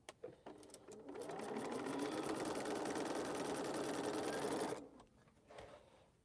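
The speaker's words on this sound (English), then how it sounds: "So let's sew this corner." A sewing machine stitches a quilt corner in one continuous, close run of motor hum lasting a few seconds, then stops.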